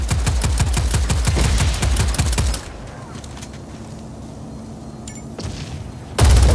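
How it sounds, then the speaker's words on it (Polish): Alternative fire from a weapon in the video game Just Cause 4: a loud, rapid volley of repeated shots for about two and a half seconds, then quieter game ambience and a final loud burst at the end. "To jest bardzo ciekawy strzał alternatywny"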